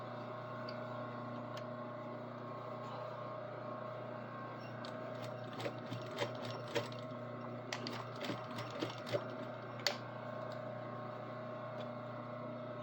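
A sewing machine hums steadily while stitching the hem along the front edge of a garment, with faint, irregular clicks and taps from the mechanism over its constant drone.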